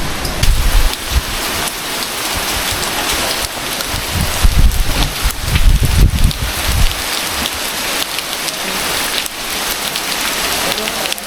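Heavy monsoon rain at a Lavasa resort pours loudly and continuously onto surfaces, with dense close-up patter and gusts of low rumble, no voices audible.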